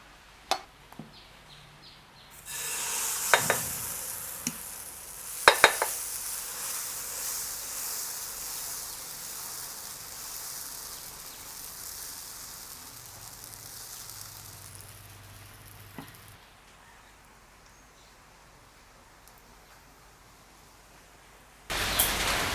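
Avul dosa made from flattened rice sizzles on a hot pan as a soft, steady hiss that swells after a few seconds and continues for long stretches, with occasional sharp clicks and scrapes of a utensil.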